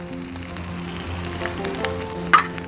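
Fried onions, salt and black pepper sizzling in a cheesesteak meat filling in a pan, a loud steady frying hiss with light stirring scrapes and one sharp clink near the end.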